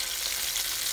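Oxtails frying in a pan give off a steady, dense sizzle up close, a continuous crackling hiss with no break and no voices.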